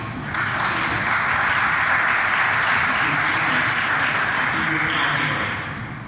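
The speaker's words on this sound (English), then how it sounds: "let's give all the panelists a round of applause here" A conference audience applauds the panelists at a roundtable session, a steady wash of many hands clapping that swells and holds for several seconds before tapering off, with no talk over it.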